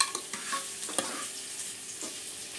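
A potato and brinjal pachadi simmers in a pan while a spoon stirs it, with a steady sizzling hiss and a few scraping clinks, close and heard alone.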